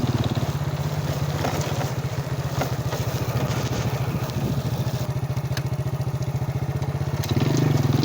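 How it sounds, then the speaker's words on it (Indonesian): An old vintage motorcycle ridden along a road, its engine thudding in a steady rapid rhythm close by, loud and continuous, with a brief rise in revs near the end. "Ini saya juga menggunakan motor jadul ya"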